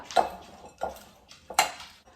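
Soaked sabudana and crushed roasted peanuts are stirred in a metal vessel, giving three soft spoon clinks and scrapes spaced evenly, quiet and close with no talking.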